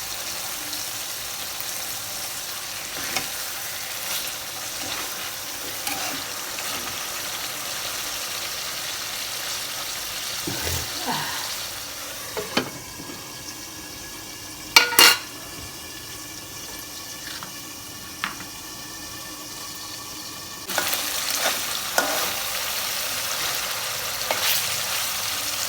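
Hilsa fish from the Jamuna river being sautéed in a pan with fried onion, a low steady sizzle broken by scraping stirs, clanks and a louder burst of frying near the end, no voices.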